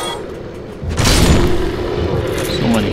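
Heavy booming blasts and rumbling fire bursts come from fire breather enemies attacking in the video game Dark Souls, a loud, dense roar swelling partway through and holding steady over a low game soundscape.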